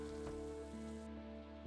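Steady rain patters in a farming video game, a quiet continuous hiss of drops on surfaces mixed with faint tonal game background sound, no voices.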